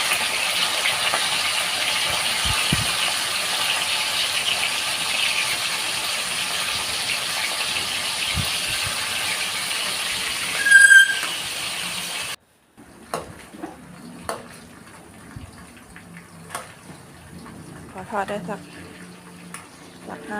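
Pork and garlic fry gently over low heat, giving a steady, moderate hiss for about twelve seconds. It then drops to a quieter stretch with scattered light clinks and bubbling.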